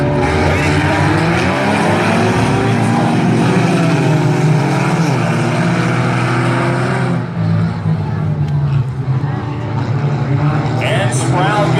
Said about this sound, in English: we're going to go back green flag racing with the number 12 on the inside, 71 Stewart on the high side.